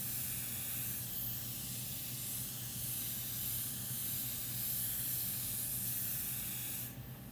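Fine water spray rinsing the face across the forehead, hairline and eyebrows during an Astrodome facial, a continuous close hiss running steadily, then briefly shifting near the end.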